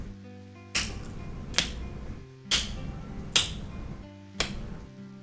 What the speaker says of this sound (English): if I go to snap my fingers